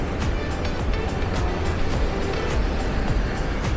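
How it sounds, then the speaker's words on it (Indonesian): Large waves crash against coral rocks on the Nusa Penida coastline, a steady loud roar of surf with repeated breaking bursts and no voices. "dengan deburan ombak yang besar, dengan batu-batu karang"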